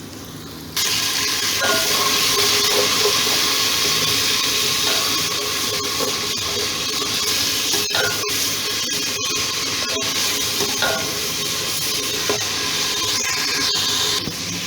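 Water poured into a pot of frying spice masala sets off a loud, continuous sizzle that begins abruptly and holds steady to the end, with occasional stirring clicks and no talk.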